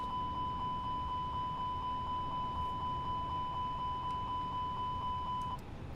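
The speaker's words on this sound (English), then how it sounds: "Engine 1 fire test." A steady train of short, evenly spaced electronic beeps sounds from an A320neo flight simulator cockpit during the engine 1 fire test, continuing at a fixed pitch for about five and a half seconds over constant cabin hum before stopping.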